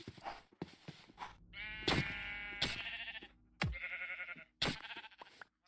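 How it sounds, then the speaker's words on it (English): Sheep in the game Minecraft, played in the RLCraft modpack, bleat in several loud, close, wavering calls separated by short gaps, mixed with brief sharp game sounds. "Sorry, sheep."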